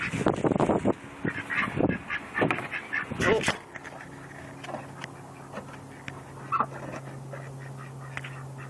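A chocolate Indian runner duck quacks several times close by in the first few seconds, loud harsh calls, then the scene settles into quieter background with a steady hum and a faint later call.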